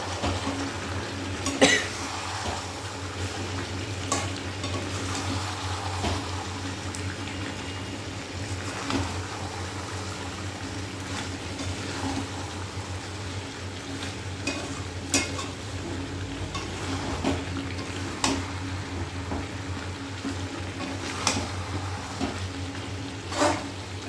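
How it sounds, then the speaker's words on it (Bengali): Chopped onion and bottle gourd peel fry in a pan: a continuous soft sizzle with scattered scraping and stirring clicks from a utensil, fairly quiet and without speech. "এই যে পেঁয়াজ কুচি দিয়ে ভাজা করব"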